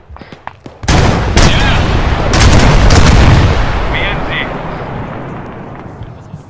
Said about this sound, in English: near the building where that IDF just landed